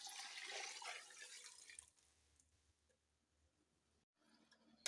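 Water pours steadily into a pressure cooker holding beef trotters, ginger and salt, with a broad splashing rush, then thins to a quiet trickle and stops, followed by a faint clink.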